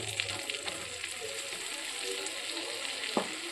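Flour being stirred into melted butter in a pan for a white pasta sauce, a soft, steady sizzle with faint stirring scrapes and one brief knock near the end.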